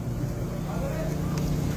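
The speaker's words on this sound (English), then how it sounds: "We can't have these floats idling with the fuel price, Luke." A horse float's engine idles at a racing stable, giving a steady, close, low rumbling drone throughout, with faint voices in the background.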